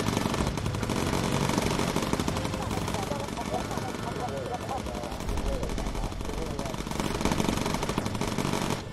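Bomber turret machine guns in the video game Bomber Crew fire in dense, continuous rapid bursts that fill the whole stretch at steady loudness over a constant engine drone.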